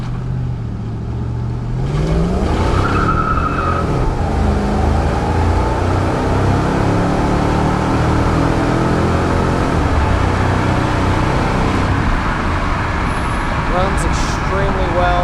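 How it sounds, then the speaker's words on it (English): A supercharged 5.4 2000 Ford Lightning pickup drives along with a rising, high supercharger whine over the steady road and engine roar, heard from inside the cab for an extended stretch. "You really hear more of that supercharger whine than you do the exhaust."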